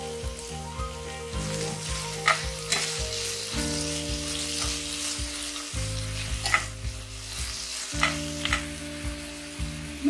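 Chopped tomato fries with softened onions in a pan, a loud continuous sizzle and crackle with occasional scrapes of stirring, and no talk.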